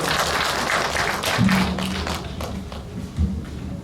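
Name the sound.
audience applause welcoming a singer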